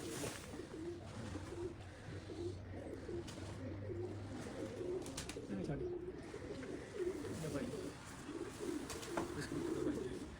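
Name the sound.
pigeon cooing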